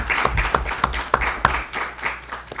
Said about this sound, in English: Can we just give one more round of applause for Reverend Mark Blue for coming today?